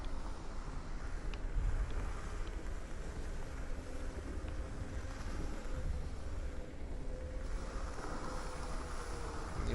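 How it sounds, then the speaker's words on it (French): A strong wind in the Exo One video game roars steadily and loudly for the whole stretch, a dense, unbroken rushing with no voices over it. "Le vent souffle si fort."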